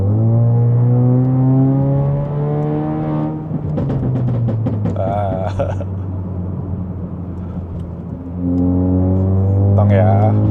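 A Mazda 3 hatchback being driven, its steady engine drone and rising revs carrying through from inside, with a long acceleration sweep in the middle and a voice talking over it.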